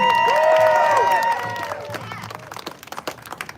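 Applause and cheering from the crowd at a Ribfest eating contest, loud at first with whoops and vocal tones over clapping, then thinning to scattered claps by the end.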